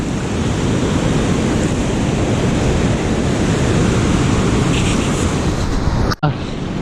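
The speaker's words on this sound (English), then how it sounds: "Wait a bit for some of those surges to suck out because she's pushing some big waves up" Big ocean waves surge and wash up a rocky shore in the Catlins, New Zealand, near a tunnel, a loud, steady roar of surf with wind buffeting the microphone, cut by a brief dropout near the end.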